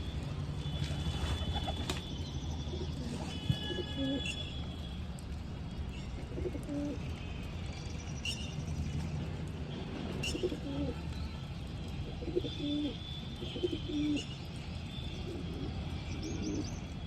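A flock of pigeons pecking at wheat grain coo softly and repeatedly at close range, with scattered chirps and occasional wing flutters over a steady background hiss.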